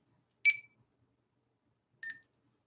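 Telephone dialing tones as a call is placed: two short, faint electronic beeps about a second and a half apart, alone in near silence.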